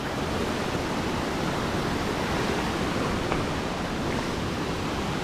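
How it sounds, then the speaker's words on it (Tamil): Steady broadband rush of falling water from a small waterfall at Saatsada Waterfall, Maharashtra, constant and fairly close, with no voices and no breaks in the flow. "குட்டி வாட்டர் ஃபால்"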